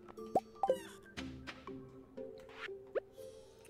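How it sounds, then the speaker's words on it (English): Watering can pouring onto freshly planted sunflower seeds in the farming game Stardew Valley, heard as a few short, bright drip and plop effects spaced over a soft looping background, close and fairly quiet. "And we shall water them."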